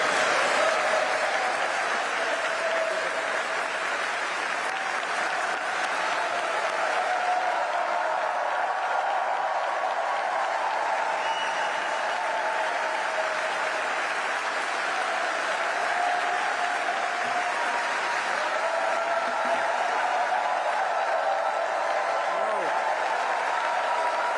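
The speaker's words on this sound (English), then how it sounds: "the mourners at the church cheered for Joe like you'd cheer at a football game, not a funeral" Mourners at a church funeral cheer and applaud for President Biden, a sustained roar of clapping and crowd noise lasting throughout, with voices mixed in and a faint whistle or call rising above now and then.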